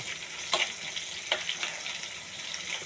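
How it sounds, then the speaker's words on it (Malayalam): Chili and turmeric fry in a pan as a curry base, giving a steady close sizzle with a couple of brief sharp crackles and light stirring, no voices. "മുളകും മഞ്ഞളും മാത്രമേ ചേർക്കുന്നുള്ളൂ. ഇതൊന്ന് മൂക്കട്ടെ."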